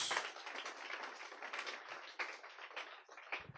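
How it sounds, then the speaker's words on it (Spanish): A church congregation claps in faint, scattered applause that goes on steadily for a few seconds and sounds distant and thin. "Dele ese aplauso al Señor, el Señor lo merece"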